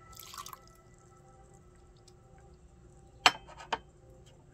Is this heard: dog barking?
no